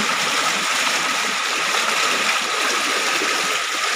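Strong floodwater in Barangay San Pedro, Duero, Bohol, rushing toward the road, a loud steady broadband roar of fast-flowing water close by with no break.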